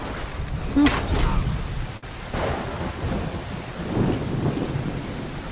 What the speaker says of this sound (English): with lightning storm